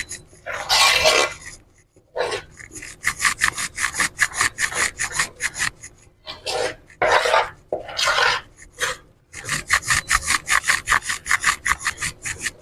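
A thick besan barfi mixture is stirred in a pan, making repeated rhythmic scraping and rubbing strokes close up and loud, in steady bursts separated by a few brief pauses, with no voices.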